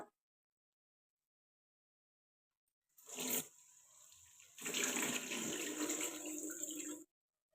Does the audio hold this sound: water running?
yes